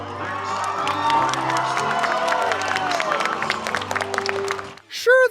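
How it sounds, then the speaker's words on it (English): A theatre audience at a Muppets performance erupts into applause and cheering, a loud sustained crowd roar with claps and whoops that cuts off abruptly near the end, followed by a brief voice. "the audience just erupts into applause, to which Vogel can be seen broadly smiling"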